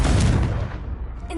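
A Confringo blasting spell goes off in a wizarding video game, a loud low booming explosion that decays over about a second, with a brief sharper hit at the very end.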